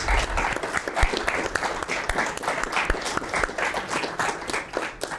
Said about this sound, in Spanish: Debemos hacer un aplauso a nuestro invitado.